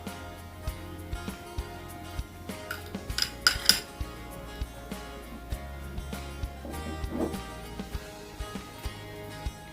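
Utensils scraping and clinking in a bowl while grated carrot, cucumber and cabbage are mixed together, a steady run of small clinks with a busier cluster in the middle, no voices.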